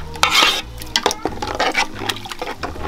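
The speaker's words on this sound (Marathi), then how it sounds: "हलवत राहावं लागेल ना." Flour dough being stirred into boiling salted water in a pot, close wet sloshing and scraping strokes in an uneven rhythm, loud and alone.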